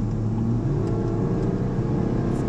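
Steady, loud engine rumble and whir from a Porsche Macan S Diesel accelerating, heard continuously from inside the car with no voices.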